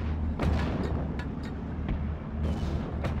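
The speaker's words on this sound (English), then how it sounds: "So continuing to use mortar support." Mortar fire in Steel Division: Normandy 44, a string of muffled thuds and booms over a low rumbling battlefield bed, several impacts spaced irregularly and heard at a middle distance.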